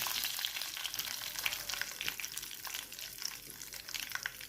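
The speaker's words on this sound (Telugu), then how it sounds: "చూడండి, ఆవాలు చిట్పట్లాడుతున్నాయి" Mustard and cumin seeds spluttering in hot oil, a close steady sizzle dotted with rapid small pops and crackles throughout, no speech.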